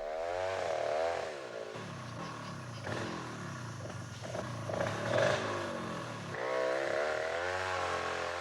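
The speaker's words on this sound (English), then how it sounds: "As in all South American forests, the chainsaw has replaced the axe." A chainsaw felling a tree in a South American forest: an engine buzzing and revving in waves, rising and falling in pitch with rough cutting stretches between, close and loud.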